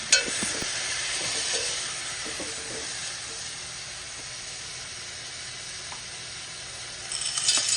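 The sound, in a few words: stirring chicken macaroni soup with broth in a pot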